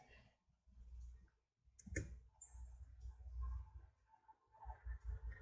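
Laptop keys tapped to enter a search into Google: sparse, close clicks and short bursts of keystrokes over low room noise, with no talking.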